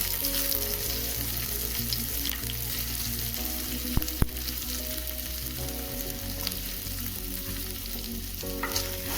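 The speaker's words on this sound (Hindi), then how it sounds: "और चलिए थोड़ी देर इसे अच्छे से भून लेते हैं।" Onion, garlic, ginger and split green chillies fry steadily in a pan, a continuous close sizzle with an occasional sharp click of a utensil.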